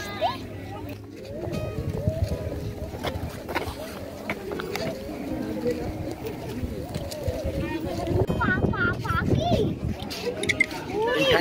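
Birds call in the Sundarbans mangrove forest, with soft cooing notes mixed into an outdoor scene where people, including a child, talk over them.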